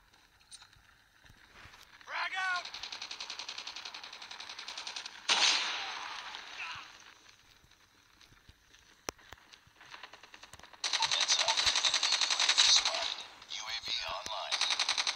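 Gunfire in the mobile shooter Call of Duty Mobile, bursts of rapid automatic and single shots coming in several loud stretches, with a voice talking between them.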